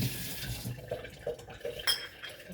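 Tap water runs into a sink while something is washed, a soft steady splash with light clinks of dishes or utensils, fairly quiet and close, with no talking.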